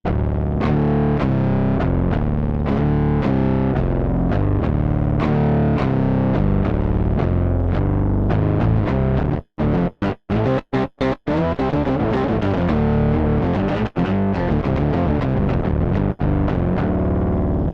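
Electric guitar played through an Eventide H9 pedal with pre-distortion gain, sag turned down and an octave blend, giving a thick, gritty chorded tone; steady riffing with several abrupt stop-start chops midway, loud and alone.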